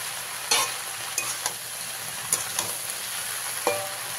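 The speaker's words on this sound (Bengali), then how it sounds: "সবগুলো শাক দিয়ে একবার ভালো করে মিশিয়ে নেব।" Water spinach is stirred in a sizzling frying pan: a constant frying hiss with a few sharp scrapes and clinks of the spatula at irregular intervals.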